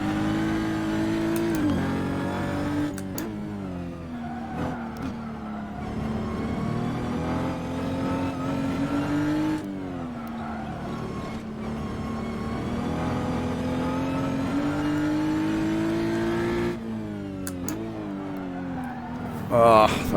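A race car engine in a racing video game revs steadily through a flying lap at Ahvenisto, holding a loud, continuous drone that rises and dips with gear changes and throttle.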